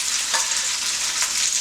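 Rice dropped into sesame oil in a hot pan gives a steady, close broadband sizzle with a couple of soft scraping stirs, no voices.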